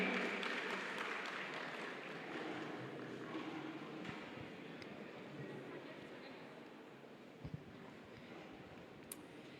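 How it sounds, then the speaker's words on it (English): Audience applause at the Elevate Summit 2024, a dense, steady wash of clapping that fills the whole stretch and slowly eases off, with a few sharper hits near the end. "Let's clap for her."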